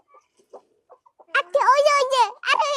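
Village chickens cluck and squawk close by in a short, loud burst of calls after a few faint scattered peeps, with voices mixed in.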